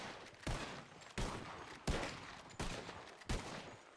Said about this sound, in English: Was that our cover fire?